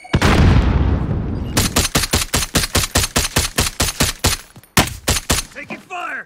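Gunfire in the Warzone video game: a loud burst and roar, then a rapid run of evenly spaced, close, sharp shots, a short pause, and a few more shots before fading ringing tails.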